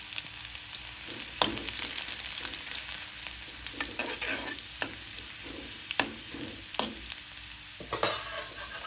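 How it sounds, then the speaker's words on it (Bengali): Panch phoron and chopped garlic fry in a pan for long bean bhaji, a steady close sizzle broken by scraping stirs and a few sharper pops and clatters. "একটু পাঁচফোড়ন দিয়ে দিলাম, রসুন কুচিটা দিয়ে দিলাম।"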